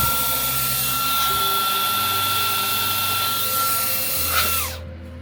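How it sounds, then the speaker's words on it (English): An electric blower running steadily at close range in a workshop where a boutique fuzz guitar pedal is being built, a broad airy whine with a shifting motor hum underneath, cutting off abruptly near the end. "why do that when you have your own electrical blower here?"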